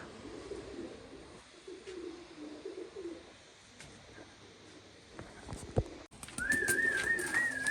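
Pigeons in a rooftop loft give soft, low cooing in a quiet setting, with faint clicks and a brief high whistling call near the end.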